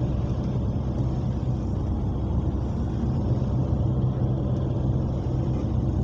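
Steady low engine rumble and road noise inside a moving car on a warm, sunny day, continuous and even throughout with no talking.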